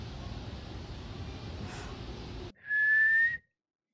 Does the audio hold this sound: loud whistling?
yes